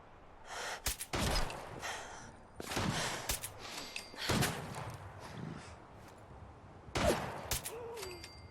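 Gunfire in the video game Fallout 4 aimed at a super mutant: several sharp broadband shots, some close together, spread irregularly across the clip with quieter game ambience in between.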